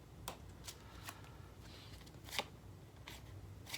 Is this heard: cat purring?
no